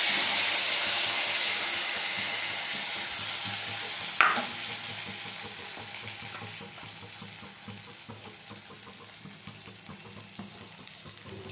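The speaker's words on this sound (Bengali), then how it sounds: "এবার তেঁতুলগুলা জলটা দিয়ে দিলাম" Tamarind water poured into a pan of frying amudi fish gives a loud rushing sizzle that gradually quietens to a steady simmering bubble, with one sharp clink partway through.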